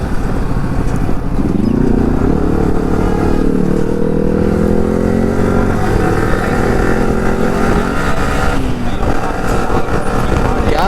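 A motorcycle races along a road at speed with a steady, loud engine drone that shifts pitch as it accelerates, close and continuous throughout, with no voices over it.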